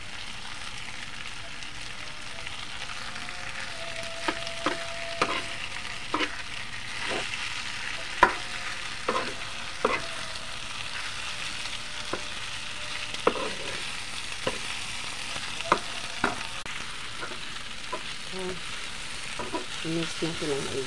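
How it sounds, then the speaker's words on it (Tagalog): Beef offal fries in a pan, giving a continuous sizzling hiss, while a utensil stirs and knocks against the pan in about a dozen sharp, irregular clacks. "Mix natin ang maigi."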